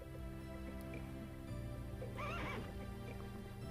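Horse sound effect from the Legend of Dragoon video game, a short whinny rising over steady background game music near the middle, fairly clear and alone without talk.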